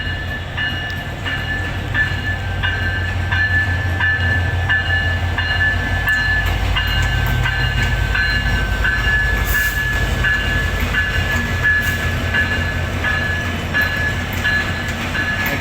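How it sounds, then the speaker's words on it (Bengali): A passenger train rolls into platform one of a busy Rajshahi railway station, its loud rumbling and rattling wagons filling the whole stretch, with faint higher squeals and a brief horn-like tone. "এই মুহূর্তে একটা ট্রেন চলে আসলো"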